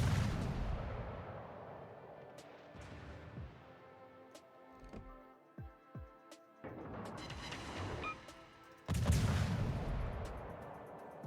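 Cruiser guns on the Tier VI British premium cruiser HMS Dido fire shell salvos in World of Warships, heavy booming blasts at the start, around four to five seconds and again near nine seconds, with rumbling tails between.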